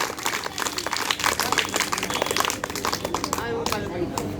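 Audience clapping at a village primary school yoga awareness event, uneven bursts of applause with voices talking over and through it.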